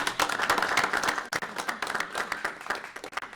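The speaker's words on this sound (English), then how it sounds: "Round of applause." Clapping breaks out at a North Canton city council meeting held at Walsh University, a modest crowd producing uneven, distinct hand claps that rise and dip over a few seconds.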